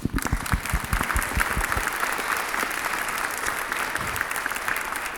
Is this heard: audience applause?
yes